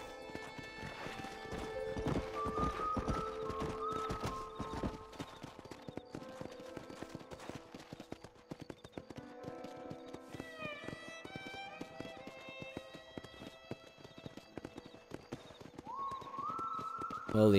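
Hoofbeats of a horse galloping in the Red Dead Redemption video game, a steady rapid clip-clop running throughout with occasional whinnies and game music beneath, ending in a louder burst.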